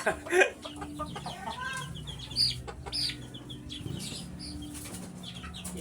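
Backyard pet chickens cluck and flap their wings close by, with sharp wingbeat bursts near the start and again mid-clip among scattered clucks and rustling over a low background hum.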